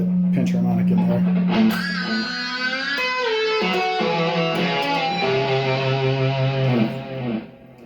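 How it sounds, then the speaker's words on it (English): An electric guitar solo with cranked distortion and pinch harmonics, from a lesson on a song's solo, plays loud and sustained with bent, singing notes over several seconds. "Crank the distortion, get that pinch harmonic in there."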